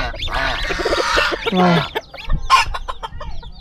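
Several nearby chickens cluck and squawk in bursts, one rising call standing out, followed by scattered softer clucks and faint background noise.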